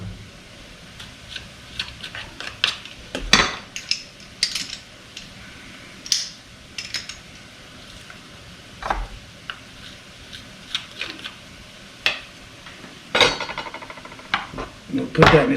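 Garlic being minced with a knife on a cutting board for shepherd's pie, a run of irregular tapping chops, some sharp and loud, scattered through a quiet kitchen.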